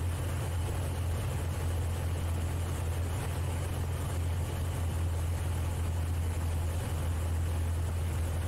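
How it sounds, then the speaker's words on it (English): Light aircraft engine with the propeller windmilling during a steep approach, a steady droning hum at constant level throughout, with no voices. "the RPMs came back up just from the prop windmilling"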